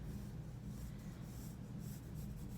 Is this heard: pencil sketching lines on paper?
yes